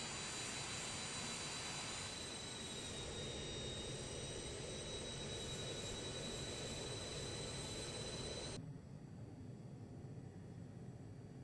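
Aircraft engines drone loudly and steadily in a flight simulator game, a constant roar with a high whine that cuts off abruptly near the end, leaving a quieter rumble.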